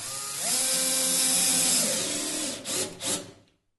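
A cordless screwdriver drives a screw through a mounting strip into a wooden cajon body, a close, rising whine for about two seconds, then a couple of short bursts as the screw seats before it stops.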